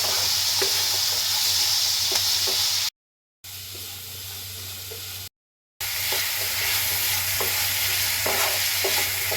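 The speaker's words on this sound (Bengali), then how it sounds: "এখন পেঁয়াজ গাজর আর টমেটো কিন্তু একসঙ্গে ভেজে নেব" Onion, carrot and tomato frying together in a pan for a semolina upma, giving a steady close sizzle with occasional stirring scrapes, interrupted by two brief silent gaps.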